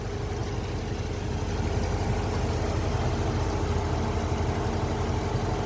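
A Dodge Charger R/T engine idles steadily with a low, rumbling drone and a faint rhythmic knock, unchanging and close throughout.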